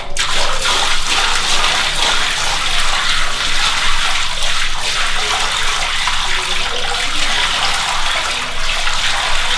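Water gushing loud and steady into a shower pan being flooded to test it before tiling, a continuous close rush of running water from start to finish with no talking.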